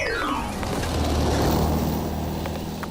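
A car passes close by in an animated children's story, its engine swelling and then fading with a falling pitch as it goes past.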